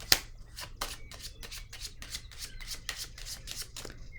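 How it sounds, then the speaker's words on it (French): Tarot cards shuffled and handled, with a steady run of soft, papery rubbing strokes repeated about a dozen times, close and fairly quiet, with no talking. "je vais piger une autre carte"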